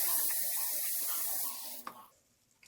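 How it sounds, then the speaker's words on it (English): Hot water pours steadily into a container for about 1.5 seconds as a hissing, splashing stream, then stops abruptly with a faint drip and clink. "I'm going to pour the water inside this container."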